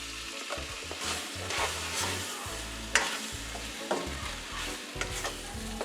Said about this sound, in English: So I saute all the vegetables and I put them aside